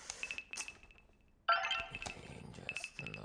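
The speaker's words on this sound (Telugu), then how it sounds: "కంటిన్యూస్ గా రింగ్ అయ్యేసరికి ఆన్సర్ చేశాను" A mobile phone rings repeatedly, a faint bright electronic ringtone with short pulsing tones that break off briefly and then resume, alone with no talking.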